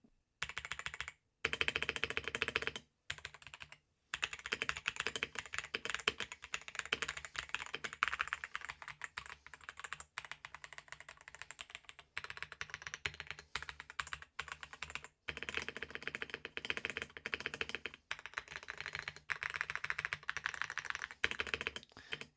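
Typing on a modded budget £22 AliExpress mechanical keyboard: bursts of quick, close, clacky keystrokes running for about twenty seconds with brief pauses between runs, no voices.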